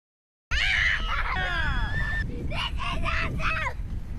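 Children screaming with excitement while sledding in snow, high shrieks and squeals rising and falling in several bursts, loud and close over rushing wind noise on the microphone.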